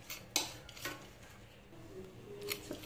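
Metal spoon scraping and tapping in a pan while pasta is stirred with ketchup, a few soft irregular clinks and scrapes, quiet and close, no voices.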